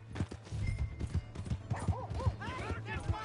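In Red Dead Redemption 2, a horse's hooves clop in a quick, uneven rhythm close by, then the horse gives a rising and falling whinny, with some voices underneath.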